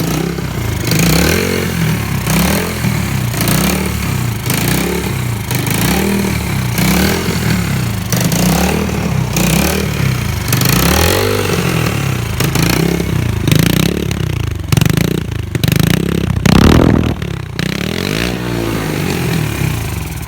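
A 2011 Yamaha TTR110E dirt bike engine, warmed up, runs steadily and loud with a pulsing, rhythmic beat and occasional blips of revving and clatter, close to the listener with no talking.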